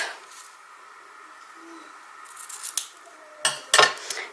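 Scissors cut linen string at a sewing craft table: quiet handling and rustle, then a few sharp, close metallic snips near the end.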